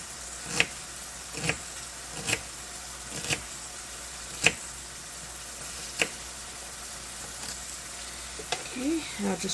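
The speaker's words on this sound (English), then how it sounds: "I'll just throw this in with my meat while the meat's frying" Meat and onion fry in a pan with a soft, steady sizzle, broken by periodic light clicks from stirring, faint and close.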